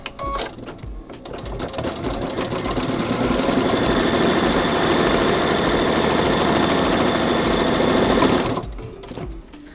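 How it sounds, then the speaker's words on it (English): Embroidery machine stitching a cutting line on green fabric held in a hoop, a steady, loud, rapid mechanical whirr of needle strokes running continuously for most of the stretch before stopping near the end. "We're going to sew stitch sequence 6 to stitch a cutting line on the green fabric."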